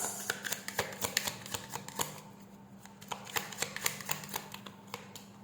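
Tarot cards shuffled and pulled from a deck, a rapid patter of crisp card flicks and taps, close and soft, no voices.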